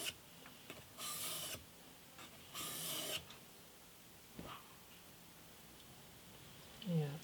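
A plane blade or chisel is rubbed across an 8000 grit sharpening stone in two distinct slow strokes, each a soft, close rasping scrape with quiet pauses and small clicks between.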